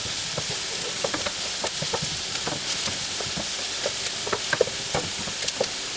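Garlic being stirred into onions in a pot, a steady close sizzle with scattered scraping and clicking from the spoon throughout, no voices.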